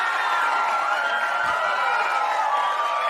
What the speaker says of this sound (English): We've got a cheer.